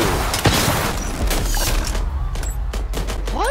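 Rapid gunfire and booming explosions fill a video game world boss fight. Dense, loud bursts of shots and blasts run continuously with deep low rumble and no talk.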